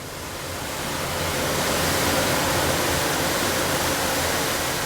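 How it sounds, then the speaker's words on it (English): Ocean surf off Hawaii carries up to an open balcony of the Pride of America cruise ship, a steady broadband wash that swells in over the first second and then holds constant, with no voices. "You can just leave your balcony door open and hear the Hawaiian Ocean."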